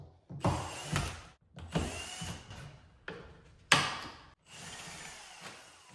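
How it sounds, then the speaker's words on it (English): A power drill drives a screw into a wall to start an anchor hole, running in several short bursts with brief pauses between them, close by and fairly loud, with no voices. "Quick way to make this anchor hole is pitch a screw in there."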